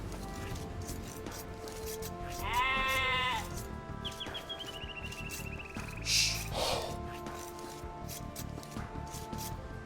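Sheep bleating in the strategy game Age of Empires 2 Definitive Edition: a single wavering bleat, then a second thinner cry and a short bright blip, over steady game background sound.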